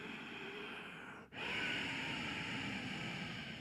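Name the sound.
Ujjayi breath, yogic breathing with constricted throat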